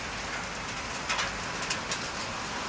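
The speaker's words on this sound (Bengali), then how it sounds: "দেখো তোমাদের দেখাচ্ছি, এই শিলা বৃষ্টি, বুঝেছো?" Hailstones falling in a steady hiss like heavy rain, with a few brief louder patters of stones striking nearby surfaces.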